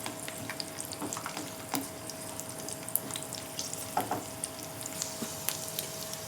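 Garlic and ginger fry in oil with cumin for a palak dish, a faint, even sizzle with small pops and crackles scattered through it and a soft steady hiss underneath.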